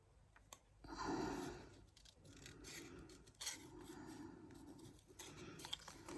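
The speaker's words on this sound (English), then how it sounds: "so I can get my scissors in here" Scissors snip and rasp through paper card in short, close strokes, rounding an edge with several cuts in a row, quiet and without talk.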